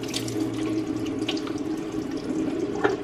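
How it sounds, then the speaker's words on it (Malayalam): Water runs steadily from a tap into a sink during face washing, a continuous close splashing flow with small drips and splashes on top. "ഞാൻ പെട്ടെന്നൊന്ന് ഫേസ് വാഷ് ചെയ്യട്ടെ"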